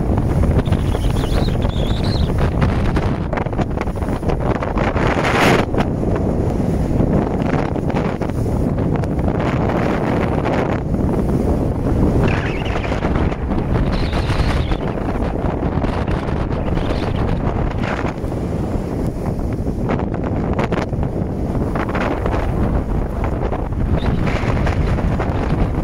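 Strong storm wind roaring over a Sargo 31 motorboat out on open water, a dense, continuous buffeting rush with gusts swelling and easing and heavy wind noise on the microphone.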